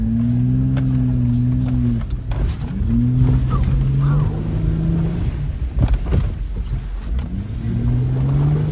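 A lifted Honda Pilot's engine revs hard and steadily while stuck in a muddy rut at night, rising and falling in loud, close surges with faint voices underneath.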